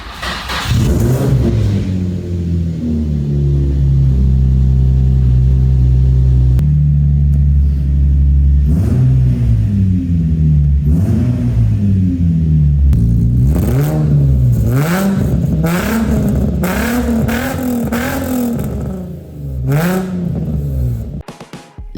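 Nissan 350Z with a 3.5-liter V6 and sport exhaust, abandoned and bought at auction, cranks and starts, then idles roughly and rises into a series of loud, close revs with no talking.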